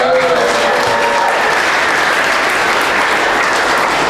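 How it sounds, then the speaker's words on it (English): A large audience at an awards ceremony claps steadily and loudly in a dense, continuous wash of applause that holds at full strength throughout. "You might want to save your applause to the end."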